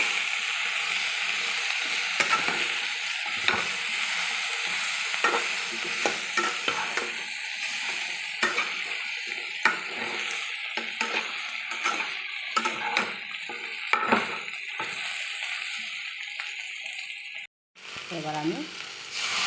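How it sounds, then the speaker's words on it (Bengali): Chilli and turmeric powder being stirred in a hot frying pan for a lentil-fritter curry, with a bright continuous sizzle and repeated scraping and tapping strokes of a spatula, briefly cut near the end. "আর অল্প একটু হলুদ গুঁড়ো। ভালো করে দিয়ে নেড়ে নিতে হবে।"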